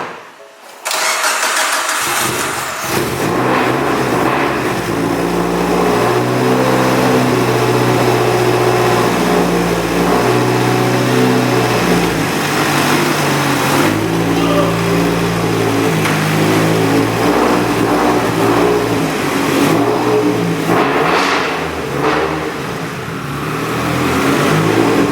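A big turbo Mitsubishi Evo 9 engine cranks and catches, then runs loud and close with repeated revs rising and falling over a rough idle, steady and powerful throughout.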